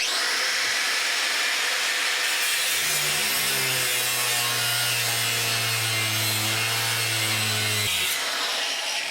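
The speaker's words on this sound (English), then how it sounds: "weapon of choice is going to be the Bosch angle grinder" A Bosch angle grinder cutting metal gives a harsh, steady grinding whine with a strong low hum and bright hiss running continuously for several seconds.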